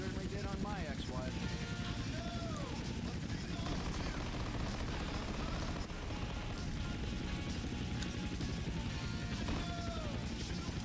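A helicopter flying in GTA San Andreas gives a loud, continuous rotor and engine roar that fills the whole stretch. Other busy game sounds are layered underneath.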